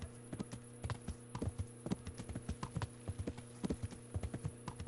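A horse in the video game Kingdom Come Deliverance clip-clops along at a walking pace, with irregular clusters of faint hoof knocks over a steady low hum.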